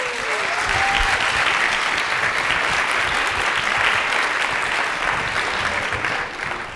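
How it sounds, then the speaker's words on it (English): An audience at a tech conference gives a sustained round of applause for a speaker, a loud, even wash of many hands clapping that carries on for several seconds before starting to taper. "let's please welcome her with a big round of applause"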